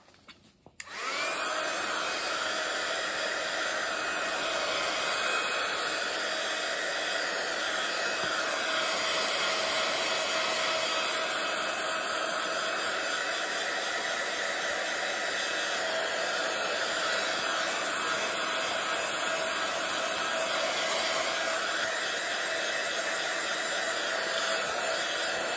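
A hair dryer blows on an art journal page, switching on abruptly and then running as a steady, loud, continuous whir for the rest of the stretch, with no talking.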